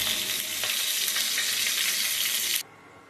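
Rohu fish heads frying in hot oil give a steady, loud, close sizzle with faint crackles, which cuts off abruptly near the end and leaves a quiet room.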